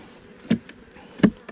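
Honey bees hum softly around a hive as two colonies are combined before cold weather, and two sharp knocks from handling the wooden boxes stand out over the faint buzz.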